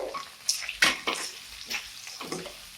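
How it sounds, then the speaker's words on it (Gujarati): Boiled potatoes fry in oil while being turned over, several scraping strokes of a spoon against the pan rising above a low, steady sizzle. "તો આ રીતે હવે સારી રીતે આપણે ઉપર નીચે કરી અને તેલમાં આને થોડા ફ્રાય કરી દઈએ"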